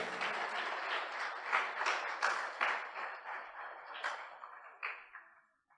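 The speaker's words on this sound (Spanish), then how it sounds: "le damos un aplauso a mis hermanos" Applause from a church congregation, a steady wash of many hands clapping that swells in places and then thins out and fades to silence.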